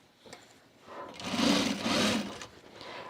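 A sewing machine stitches a gusset on a self-drafted fabric bag, a short close burst of fast whirring stitches rising and easing over about a second and a half, with quiet handling noise before and after.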